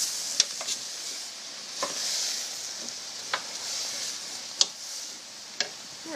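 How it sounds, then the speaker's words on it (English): A spoon stirs fruit chutney of tomato, apple and pear in a pot, giving faint scraping and soft clicks against the pot. A few sharper taps stand out over a quiet hiss. "So give that a good stir."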